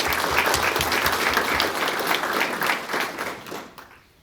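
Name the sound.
audience applause at workforce award breakfast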